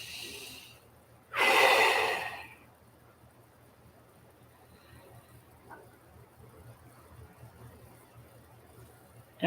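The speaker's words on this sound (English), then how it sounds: "Take a deep breath for me." One deep breath taken in a quiet room, a single loud airy inhale lasting about a second, close to the microphone, followed by faint stillness.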